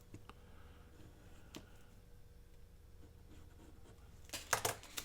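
A pencil traces around a template laid on paper, making a faint, steady scratching with light taps, then a louder brief rustle near the end.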